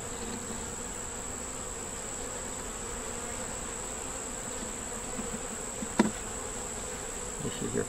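Honey bees drone in a steady, close buzz around a hive, a continuous hum with a brief tap near the end and no talking.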